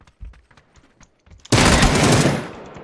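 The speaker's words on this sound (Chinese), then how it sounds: "我听到右边有枪声" Loud burst of rapid gunfire from a shooting video game erupts suddenly after quieter game sounds and brief talk, a dense volley that sustains for over a second before tapering off.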